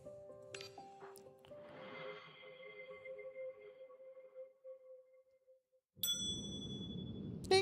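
A doorbell chimes in a story-driven video game: a clear two-note ding-dong with ringing tones that decay slowly, followed after a quiet gap by a brighter burst of game sound.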